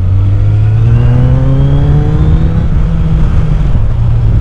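Motorcycle fitted with a sport exhaust tip revs up close by, a loud, continuous engine roar rising steadily in pitch, with no voices.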